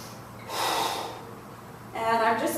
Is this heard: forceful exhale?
yes